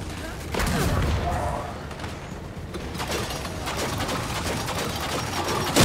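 Gunfire and explosions in the video game Gears 5, a sustained dense rattle of shots and booms with a loud burst near the start, continuing steadily throughout with speech mixed in.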